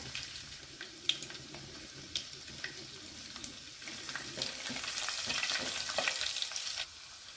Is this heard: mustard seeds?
yes